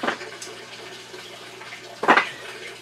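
Water drains out of a flipped grow bed filled with gravel, with a soft trickle and two louder splashing gushes, one at the start and one near the end.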